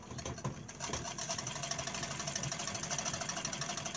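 A 130-year-old Singer sewing machine, freshly oiled, runs a stitch with a steady fast mechanical rattle and clatter, close and continuous throughout.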